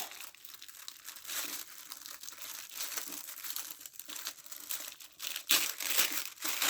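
Tissue paper crinkles and rustles continuously as it is unwrapped from a Cultivate What Matters weekly planner box. The crackling is close and busy, with denser bursts near the end and no talk.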